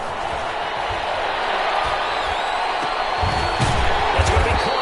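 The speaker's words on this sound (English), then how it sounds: "the crowd getting into it as we come up on a big third down" Crowd at an American football game in a Vikings stadium, a steady roar of cheering and noise that swells slightly toward the end while a commentator talks over it.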